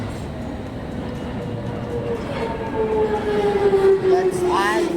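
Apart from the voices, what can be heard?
train arriving at station platform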